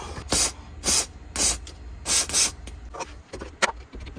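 A spray can gives short hissing bursts onto old hose clamps in the engine bay of a turbo Volvo 240. About five distinct close sprays come in a quick rhythm, followed by a few softer, shorter spritzes.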